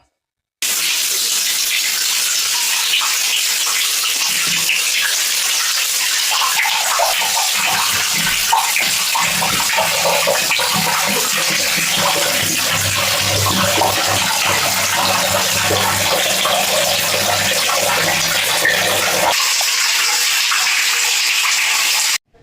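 Water gushes steadily from opened bathroom taps as a water tank is flushed clean after cleaning powder is added, a loud continuous rushing that runs unbroken for about twenty seconds before stopping abruptly.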